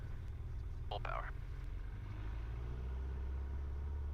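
A Piper Archer's piston engine holds a steady, even drone at full power, heard from inside the small aircraft. A brief, higher-pitched burst of sound sits over the constant rumble.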